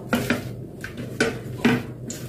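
Mashed small-shrimp bhorta being mixed by hand in a bowl, Bangladeshi style: a few soft clinks and knocks against the dish in an uneven rhythm, close and fairly quiet, with no talking.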